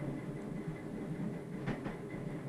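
A commuter train rumbles along steadily in 1987 East Germany, heard from inside at a low, even level, with faint rattles and a brief squeal partway through.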